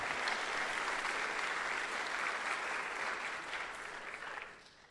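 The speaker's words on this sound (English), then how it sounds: "So big round of applause," Audience at a film score mixing masterclass applauding steadily for about five seconds, a dense wash of clapping from a crowd that tapers off at the end.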